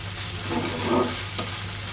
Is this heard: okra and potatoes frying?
yes